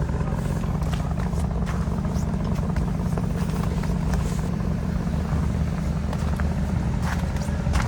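A Bentley Bentayga SUV pulls out of a hotel parking lot, its engine giving a steady, continuous low rumble that holds close and fairly loud throughout, with no voices.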